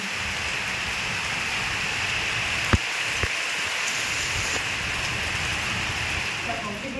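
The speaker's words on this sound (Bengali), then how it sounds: "এই যে ঝড় বৃষ্টি ভালোই হচ্ছে" Heavy storm rain pours in a dense, continuous wash heard close by, with a couple of sharp knocks partway through.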